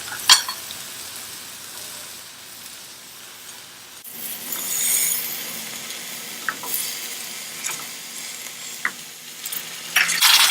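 Cauliflower and potatoes for aloo gobi fry and get stirred in a pan, a steady sizzle that swells after a few seconds, broken by scattered clinks and scrapes of the spoon against the pan.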